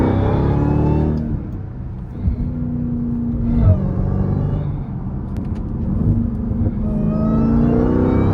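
A Jeep Trackhawk in track mode cruises on the highway with a low, steady exhaust burble and rumble inside the cabin, swelling slightly at moments with a faint whir and no talking.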